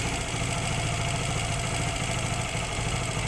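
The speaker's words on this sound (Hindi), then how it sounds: "ये इंजन किसी टाइम भी बंद हो सकता है यहाँ पे" Suzuki GR150 motorcycle engine idling unevenly during air-fuel mixture adjustment, a steady close mechanical drone with a rough, slightly knocking pulse and no voices.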